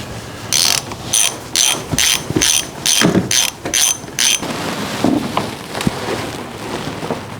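A ratchet on a 10-inch extension and deep socket loosens the oil filter housing of a 2015-2022 GM 3.6L V6, giving about eight loud, rapid clicking bursts in a steady rhythm, then softer handling noises.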